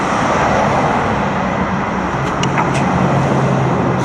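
Loud, steady road traffic roars past at close range on a street with no sidewalk in Boise, a dense continuous wash of engine and tyre noise with a few brief higher hisses near the middle.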